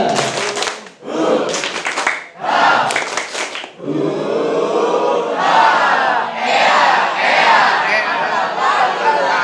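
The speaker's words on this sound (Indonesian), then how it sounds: "itu dia tepuk-tepuk yang setiap harinya kita lakukan" A group of voices shouts a short rhythmic clapping chant in a few bursts, then breaks into loud, sustained cheering and clapping from a lively crowd.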